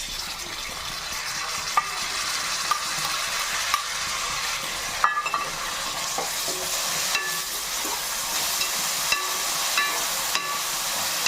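Tomatoes frying in oil with curry leaves in a pan for a Nellore fish curry, a steady moderate sizzle with occasional sharp clinks and scrapes from stirring, no voices.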